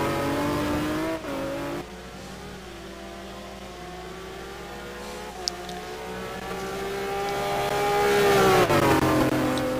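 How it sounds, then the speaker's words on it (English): A McLaren GT1 race car at speed during Sebring super pole qualifying, its engine note droning steadily with a brief gear change early on, then rising louder toward the end as it nears, ending with a short tire slide. "Beautiful looking and sounding car,"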